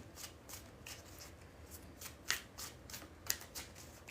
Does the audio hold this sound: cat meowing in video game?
no